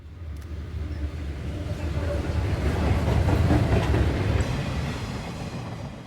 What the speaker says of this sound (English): An eastbound rail train next heads around Turkey Foot Curve.